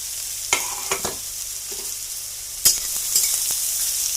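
Carrots added to a pan of frying beetroot, chilli and ajwain, giving a steady soft sizzle with a few sharp stirring scrapes near the start and later in the clip. No one speaks.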